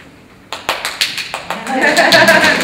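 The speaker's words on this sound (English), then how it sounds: "Applause." Applause at a scholars' roundtable at a poetry symposium starts with a few scattered claps, then builds into a dense, steady patter of many hands clapping, fairly close and loud.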